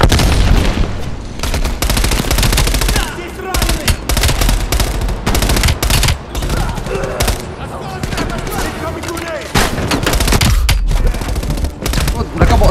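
Rapid, loud shotgun blasts and bursts of gunfire from enemy players in the Call of Duty Black Ops Cold War video game, dense and continuous across the whole stretch with sharp repeated cracks and booms.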